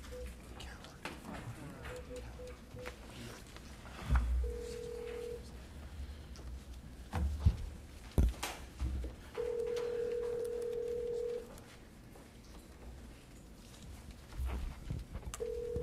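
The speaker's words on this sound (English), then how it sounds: "We're trying to call her on the phone." Ringing tones of an outgoing telephone call placed during a school board meeting, steady beeps repeating over a few seconds amid room noise and scattered voices.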